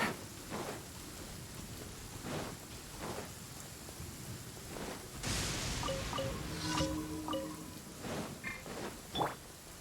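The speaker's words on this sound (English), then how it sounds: "It's raining again?" Steady rain pours throughout in a video game, with low rumbles of thunder, while faint tonal game sounds chime in partway through.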